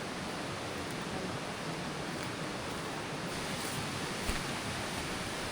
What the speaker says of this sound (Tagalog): Para narinig nyo yung lagaslas ng ilog